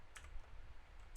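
A couple of soft keystrokes on a computer keyboard, faint and close, separated by a quiet pause.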